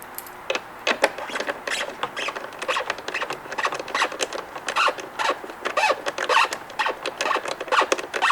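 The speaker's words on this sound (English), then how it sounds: "Now we're going to tighten the screws with our 10mm socket." A 10mm socket tightens screws into well nuts on a 2013–2018 Kawasaki Ninja ZX-6R headlight assembly. The sound is close, busy scraping and rapid clicking in uneven bursts that continue without a break, with no voices.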